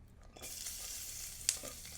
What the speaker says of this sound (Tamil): நான் இப்போ வெங்காயத்தை வதக்க போகிறேன்.